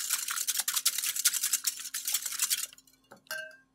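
Eggs whisked with fine sugar in a bowl, a rapid, close rhythmic scraping and clinking of a whisk against the bowl for a few seconds, then stopping, followed by a single clink.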